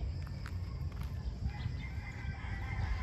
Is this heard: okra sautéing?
no